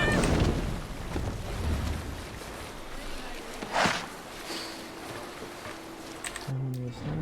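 Wind and rushing water around a sailing ship in Assassin's Creed Valhalla, a steady broad roar with a brief swell midway and a few low tonal game sounds near the end.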